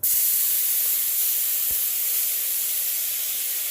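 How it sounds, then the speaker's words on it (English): Loud, continuous hissing sizzle as balsamic vinegar hits a hot pan to deglaze it, starting abruptly and holding steady throughout, close up. "we want that sizzle. That's exactly what we want. That's called deglazing the pan."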